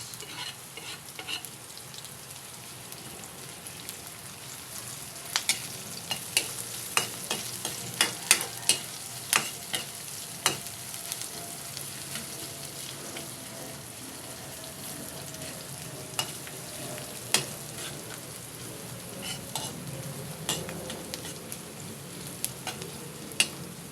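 Garlic and onion sauté in hot oil in a pan, a constant sizzle broken by scattered sharp taps and scrapes of a spatula stirring, with no voices.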